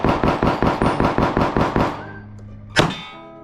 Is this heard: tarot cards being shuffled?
no